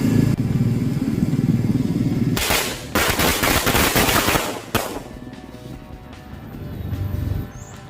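Lit firecrackers exploding close by in a rapid crackling barrage of bangs lasting about two seconds, followed by a second short burst, over a constant rumbling background noise.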